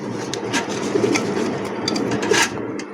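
Pigeons in a seller's pen coo softly and repeatedly over a dense, continuous background of bird noise, with scattered faint clicks and flutters.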